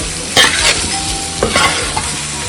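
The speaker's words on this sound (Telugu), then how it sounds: "కొంచెం ఒక టూ మినిట్స్ దీన్ని ఈ విధంగానే కలుపుతూ ఉండాలి" Green chicken pulao fries in a pan while being stirred, giving a loud continuous sizzle broken by a few scraping strokes of the spoon, close up with no talk.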